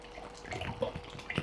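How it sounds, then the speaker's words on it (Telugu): A mixture of dal, tomato and tamarind juice is poured onto vegetable pieces for Chennai sambar, making a close, splashy, gurgling pour with small irregular bursts and no talking. "పప్పు, టమాటా, చింతపండు పులుసు 3 కలిపేసాను. ముక్కల్లో పోసేస్తున్నాను."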